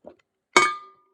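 An ice cube clinks once, sharp and bright, against a rocks glass of Woodford bourbon, a single close ringing tap after a faint brief knock, then quiet.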